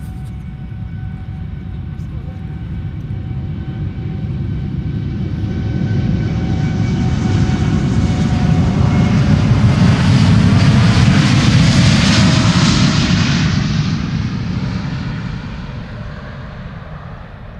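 An Air Europa jet airliner departs Schiphol bound for Madrid, its engine roar swelling steadily to a broad peak and then easing slightly as it passes, with no voices over it.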